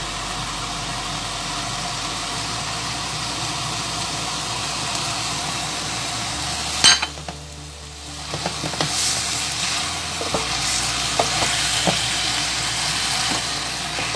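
A coriander and parsley mixture with spices fries in a pan, a steady close sizzle with a brief louder clatter midway and a low hum underneath.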